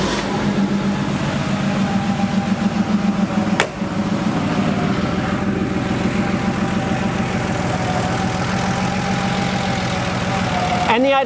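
1986 Porsche 3.2 Carrera flat-six with an idle problem, restarted and settling into a steady, fairly loud rumbling idle with a brief sharp transient early on.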